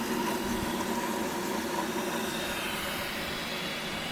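Exhaust venting from a Tuttnauer Brinkman 2540 M tabletop sterilizer at the end of a cycle, a steady, loud, broadband hiss of escaping steam with a faint underlying hum, continuous and unchanging throughout.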